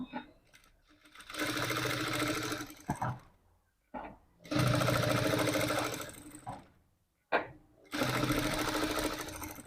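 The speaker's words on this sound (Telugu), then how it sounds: "దీనికి నేను చుట్టూ కుట్టేస్తాను" A sewing machine stitches around a square blouse hanging in three bursts of steady, close, loud whirring, separated by short pauses.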